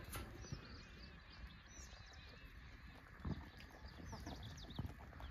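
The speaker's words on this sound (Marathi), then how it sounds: "सगळे कोंबड्या चरायला सोडल्यात बाहेर" Free-range chickens let out in the morning to graze outside their shed on a poultry farm, clucking softly and steadily at a distance, with faint bird calls and occasional louder clucks throughout.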